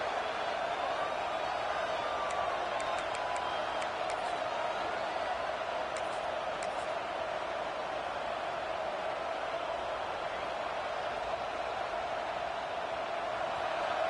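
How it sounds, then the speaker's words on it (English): Stadium crowd at a football game, a dense, unbroken roar that holds at a high level throughout, with a commentator's voice speaking over the noise. "this crowd is fired up. Listen to this noise here."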